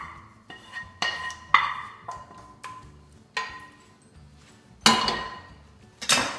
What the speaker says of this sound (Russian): Теперь можно это все закидывать в кастрюльку.